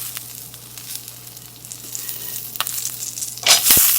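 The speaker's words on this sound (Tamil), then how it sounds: "அப்படியே கொஞ்சம் வரமிளகா இதையும் நல்லா போட்டு வறுக்கலாம். இப்போ கருவேப்பிலை கொஞ்சம் போட்டுடலாம்." Dried red chillies and curry leaves fry in hot oil for a Tamil chutney, a soft steady sizzle that swells into a louder, bright crackle near the end as the leaves hit the pan.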